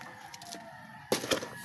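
A chicken crows in a short burst near the end of a quiet outdoor stretch, loud and close after faint background bird calls.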